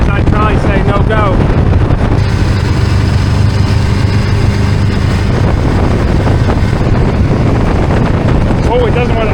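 A 1970s big block jet boat engine drones loudly and steadily while the boat runs on slightly choppy water, heavy wind buffeting the microphone throughout as people talk over it.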